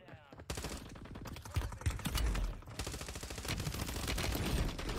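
Rapid automatic gunfire from a weapon in a Rebirth Island video game match, loud, close bursts of shots filling the whole stretch with little pause.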